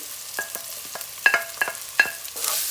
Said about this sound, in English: then I'm going to add the garlic leaves, spring onion, then chopped green chili,